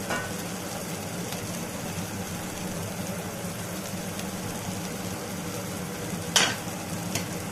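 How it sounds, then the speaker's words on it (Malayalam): Pepper paneer masala with chopped coriander leaves being stirred in a pan, a steady low sizzle with a couple of sharp scrapes of the spoon against the pan near the end, no talking. "എന്നിട്ട് ഞാനിതൊന്ന് ഇളക്കി കൊടുക്കുകയാണ്."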